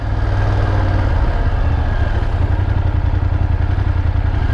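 A motorcycle engine rumbles steadily while riding, a close, continuous low drone with some mechanical clatter.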